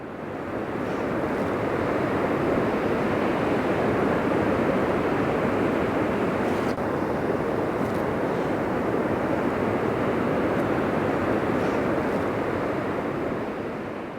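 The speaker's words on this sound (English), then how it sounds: "the river is pretty loud right here. And I think it's because it's echoing off the gorge" A river rushes through a rocky gorge beside a stone tower, a loud, steady broadband roar echoing off the rock walls, continuous and unbroken with no voices.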